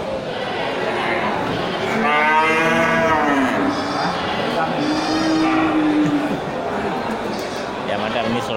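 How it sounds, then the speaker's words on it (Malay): Large local fattened cattle at an outdoor livestock market, with drawn-out moos rising and falling twice over a busy crowd murmur, and people talking nearby. "ini sorotan kamera untuk melihat sapi jumbo"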